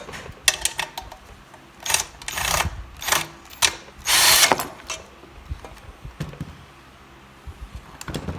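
A power tool fitted with a socket drives bolts tight during a wheelchair hoist build, giving several short ratcheting bursts in an uneven rhythm, with one longer whirring run near the middle, close and fairly loud.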